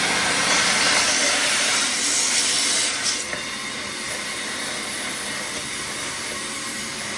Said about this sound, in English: I took the siphon hose, I'm putting it down in the vacuum like this, and this side is going down in the spark plug tube.